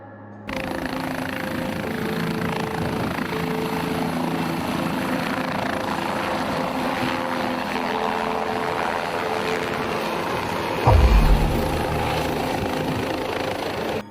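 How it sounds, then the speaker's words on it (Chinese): An ambulance helicopter takes off close by, its rotor and engine producing a loud, steady throbbing drone with a sudden low thump partway through. "救护直升机把一个需要急救的病人装进飞机后，准备起飞送往医院抢救"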